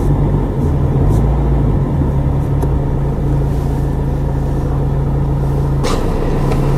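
A car engine idles steadily and loud up close, with a low steady drone; a brief rise in pitch around six seconds hints at a rev.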